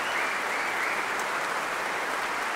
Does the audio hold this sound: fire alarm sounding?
no